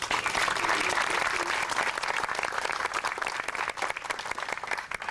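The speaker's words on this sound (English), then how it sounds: "let's give them a strong round of applause" Strong, sustained applause from an audience at the 2002 opening of the Blair Museum in Toledo, a dense wash of clapping that holds steady and thins slightly toward the end, with a little crowd murmur.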